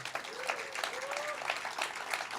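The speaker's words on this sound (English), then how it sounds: "let's give a round of applause again to the Siskiyou violins" Faint, scattered audience clapping for the Siskiyou violins before a pre-concert talk, a soft patter with a voice briefly rising over it.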